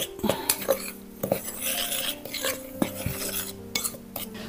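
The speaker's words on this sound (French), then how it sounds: "On va mettre 45 g de sucre roux. Voilà. Je mélange." Brown sugar, 45 g, stirred into a mixing bowl for Christmas shortbread biscuits, with a spoon scraping and clinking against the bowl in quick irregular strokes, quiet and close, no voices.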